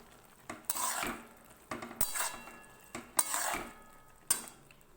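Spoon stirring egg tarka with ghee in a metal pan, four or five close scraping strokes with clinks against the pan, spaced about a second apart, moderately loud with no talk.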